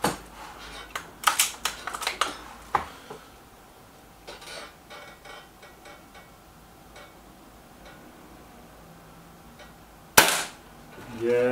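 Gamo Boxer air rifle pellets striking a target: a burst of sharp, close cracks and snaps over the first few seconds, a quiet stretch, then one more loud impact near the end.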